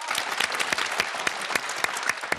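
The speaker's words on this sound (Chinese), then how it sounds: "谢谢大家热情的掌声" Audience applause at a live crosstalk comedy performance: dense, steady clapping from a crowd, with sharp individual claps standing out throughout.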